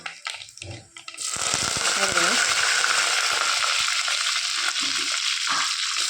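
Mustard seeds and two dried chillies hit hot coconut oil and break into a loud, steady sizzle after a second of quieter clatter, spluttering close by throughout.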